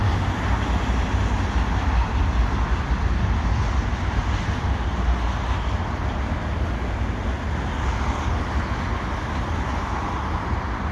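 CN mixed freight train of aluminum cars rolling steadily past at a highway 20 crossing in winter, a continuous loud rumble and clatter of wheels with wind noise throughout and no distinct breaks.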